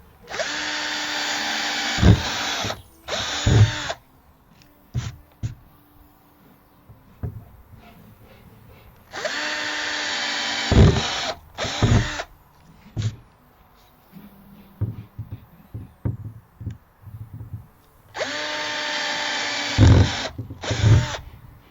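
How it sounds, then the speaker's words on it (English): A power drill whirs in three long bursts spaced several seconds apart, drilling holes in a plastic wheelie bin, with scattered clicks and knocks of handling between them. "So I'm just going to drill our first hole,"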